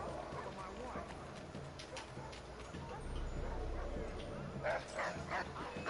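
Dog barking in Assassin's Creed III, several yips and barks scattered over a busy game soundscape of hoofbeats and ambient noise, with a voice talking alongside.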